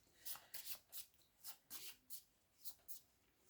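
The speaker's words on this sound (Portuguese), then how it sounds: "Vou então baralhar cartas." Petit Lenormand cards are shuffled by hand on a reading table, a quick run of crisp riffling bursts in an uneven rhythm. Each burst is soft and close.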